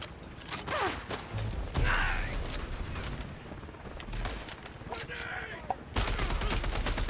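Rapid bursts of gunfire from the Mother Flacker weapon in the shooter game Phantom Fury, sounding as dense volleys with sharp repeated cracks and a heavy final salvo, loud and close alongside game effects.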